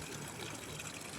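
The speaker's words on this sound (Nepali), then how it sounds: "यहाँ बिचमा पानी झरिरहेछ" Water pours steadily from a burst pipe onto a steep village path, a continuous broadband rush and splash heard up close with no voices over it.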